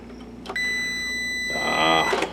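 A multimeter gives a continuity beep while a fuse from a Sanyo PLC-XM150L LCD projector is tested. One steady, clear electronic tone holds for well over a second, with a little handling noise around it.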